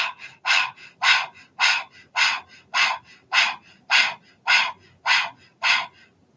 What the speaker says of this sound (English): like a dog panting breath.